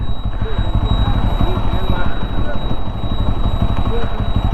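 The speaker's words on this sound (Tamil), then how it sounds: "காற்று பயங்கரமாக அடிக்குதுங்க, ஆளை தள்ளுது." Strong monsoon wind in hilly terrain buffets the microphone in a loud, constant low roar that barely changes from start to finish.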